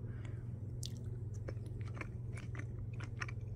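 Close biting and soft, squishy chewing on a Green Wise strawberry-shaped fruit chew, a steady run of small wet crunches and mouth sounds with no talking.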